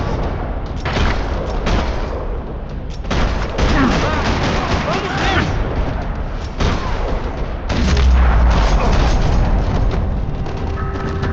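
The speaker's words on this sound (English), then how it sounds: "Another parking lot rattling with gunfire." Dense bursts of gunfire crackle in rapid volleys with booming impacts in a parking lot in Max Payne 3, loud and chaotic, as in an action video game firefight.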